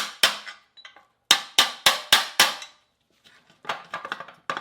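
A hammer bangs repeatedly on a rusted, seized Subaru wheel hub, with sharp metallic strikes in a quick rhythmic burst of five, then a pause and a cluster of lighter taps; close and loud.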